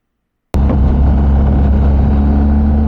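A BMW R1250GS motorcycle on Michelin Road 5 tires starts after a moment of silence, then holds a loud, close, steady engine drone with a low rumble and a constant hum, with no voices.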